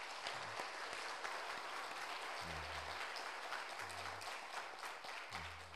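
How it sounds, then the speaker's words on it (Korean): A church congregation applauds steadily, a dense wash of clapping that continues throughout, with low hum beneath. "아들 낳는데 박수 한번 쳐줘요."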